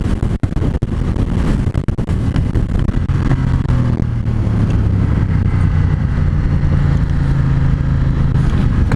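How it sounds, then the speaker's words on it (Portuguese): Ducati X Diavel motorcycle with a large L-twin engine accelerating hard under traction control, a loud, close, continuous roar with rising engine tones and no talk. "Motor gigantesco em L. Dá pra ouvir, ó. Característica do barulho de motor da Ducati."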